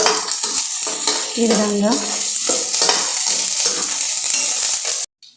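Urad dal, mustard seeds, cumin, curry leaves and peanuts frying in oil, a loud, close sizzle with rhythmic stirring scrapes, cut off abruptly near the end; a voice speaks briefly.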